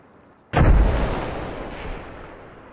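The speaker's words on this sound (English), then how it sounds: "That was an explosion at the bar. It's happening outside the bar." A single loud explosion in the video game Arma Reforger goes off outside a bar, a sudden close blast with a long rumbling decay that fades over a couple of seconds.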